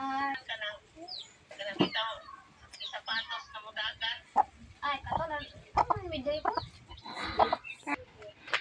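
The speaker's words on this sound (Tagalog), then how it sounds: "Malaki ng manok guys oh." Chickens cluck and squawk close by in short, irregular bursts, with a few louder calls mixed in.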